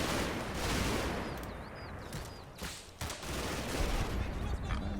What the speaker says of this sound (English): Maybe a bit of rifle fire.